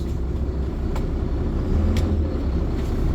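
A truck's engine runs under light throttle during a trailer brake test, a steady loud low rumble with a slight swell partway through and a couple of faint clicks.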